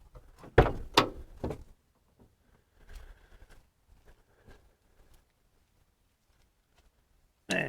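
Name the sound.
van back doors being opened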